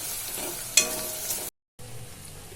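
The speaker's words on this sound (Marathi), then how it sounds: "हा कांदा टोमॅटो छान फ्राय करून घेऊया एकत्र" Onion and tomato frying together in a pan, a steady hiss of sizzling oil with a brief spatula clink, cut by a short silent gap before the frying resumes more quietly.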